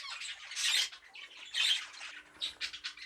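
Young birds in a breeding cage give harsh squawks in several bursts, loud and close, the calls coming in irregular clusters with short gaps between them.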